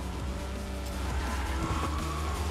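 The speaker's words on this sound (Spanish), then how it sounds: "A y mayos izquierda para hacer derrape propulsado" A boosted drift in Fortnite Rocket Racing: a loud, steady car engine roar with tires skidding and squealing across the whole stretch, close and continuous.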